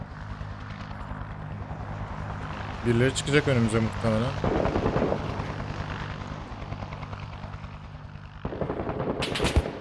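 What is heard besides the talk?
helicopter in a video game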